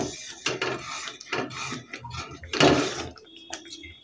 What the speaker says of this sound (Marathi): तर हे सर्व व्यवस्थित हलवून घ्यायचं आहे